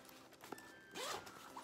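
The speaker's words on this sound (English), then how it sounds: "Like if you unzip this," Zipper pulled open on a zippered compression packing cube, a quick rasping zip after a small click, close and fairly quiet.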